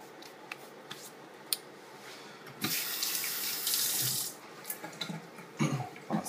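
A tap runs into a sink to rinse a shaving bowl, steady close water flow that swells louder midway, with small clinks and splashes throughout.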